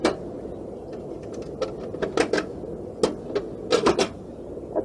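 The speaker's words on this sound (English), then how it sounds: "Most of the time you'll have a disconnect box like this one." An air conditioner's outdoor electrical disconnect box being pulled open, giving a string of scattered metallic clicks, snaps and rattles of varying loudness over a low background hum.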